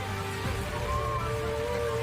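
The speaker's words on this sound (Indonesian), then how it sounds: "hujan deras disertai angin kencang melanda wilayah tersebut" Steady, dense hiss of heavy rain with strong winds pouring down in Sukabumi, West Java, constant and fairly loud, with a low rumble beneath it.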